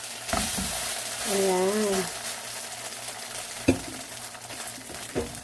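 Samyang ramyeon sizzles and fries in a frying pan, a steady crackling hiss under a short spoken interjection and the occasional clink of a utensil against the pan.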